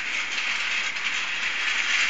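Toy trains run along a toy track, a steady close rattle and clatter of small wheels that continues without pause, with no voices over it.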